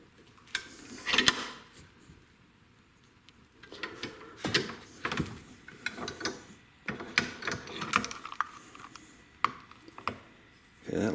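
A repaired casement window crank operator turns in short bursts of clicking, grinding gear noise, with brief pauses and small knocks between turns.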